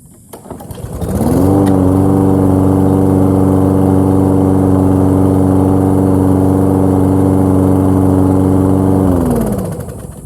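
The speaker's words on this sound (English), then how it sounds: "Just start the mower for maybe 30 or 60 seconds." Toro Recycler lawn mower engine starting up, revving to a loud, steady droning run held for several seconds, then winding down at the end, close by with no talk.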